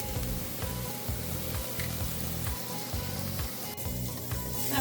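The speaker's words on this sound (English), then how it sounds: "I will fry this until it's nice and caramelized." Chopped onion sizzles and fries steadily in a pan with salt, a dense continuous crackle and hiss with soft pulsing as it cooks, close and alone without voices.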